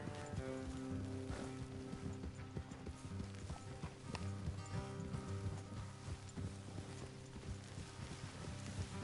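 Steady clip-clop of horse hooves trotting in Red Dead Redemption 2, in a rhythmic pattern over a bed of background music, with no voices.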